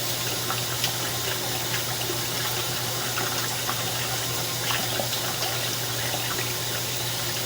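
Water runs steadily into a sewer drain line to carry an inspection camera downstream, a constant rushing flow with a low hum beneath it, and no talking.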